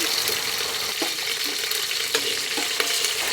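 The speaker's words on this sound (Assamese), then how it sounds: "পিঁয়াজ জলকীয়া ভাজি আছে" Onions and green chilies frying in a pan, a steady broad hiss of sizzling oil with a few soft stirring clicks, close and continuous with no talk.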